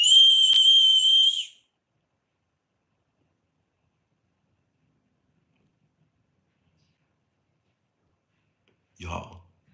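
A dog whistle gives one shrill, steady tone lasting just over a second, followed by long silence and a brief faint low sound at the very end.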